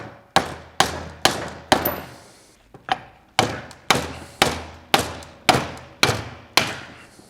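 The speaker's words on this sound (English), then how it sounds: "Got a brass hammer here" A brass hammer strikes the axle shaft of a BMW E70 X5 V8 SUV in a series of about eleven sharp metallic blows, evenly spaced after a short pause, each ringing briefly and fading, close and loud.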